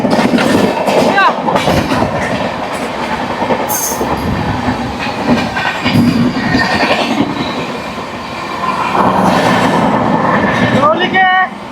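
Dhauli Express passenger train running at about 95 km/h, its wheels rattling and clacking over the rails in a loud, steady rush, with brief squeals and a passing blast near the end.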